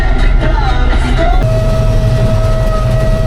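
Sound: train passing a closed rail crossing

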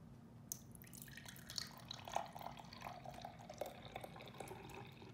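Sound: pouring Ninja Melk drink into a glass cup

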